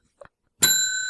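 A single bell struck once, ringing out with a bright, sustained metallic tone that slowly decays, preceded by a faint brief knock; close and fairly loud, with no voices.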